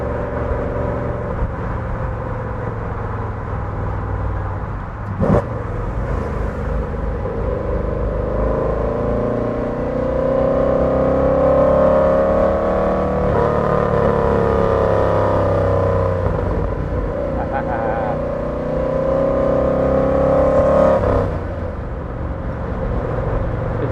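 A 1963 Chevrolet Corvette Stingray V8 drones steadily from inside the car while driving, its pitch rising and falling with throttle, with a couple of brief sharp knocks along the way.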